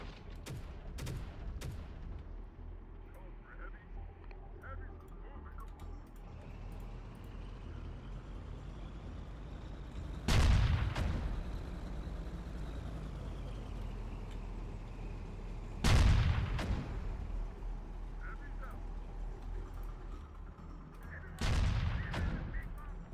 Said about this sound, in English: grenades now on the Rangers